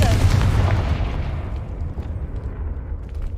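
A Confringo blasting spell goes off in Hogwarts Legacy with a loud, booming burst at the start, then a low rumbling tail that slowly fades.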